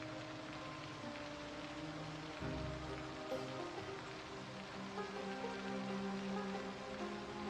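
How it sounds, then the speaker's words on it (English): Steady rain falling in a video game, a dense continuous hiss of drops with a low layered ambient hum underneath, constant and without voices. "It's raining again, which is kind of dope."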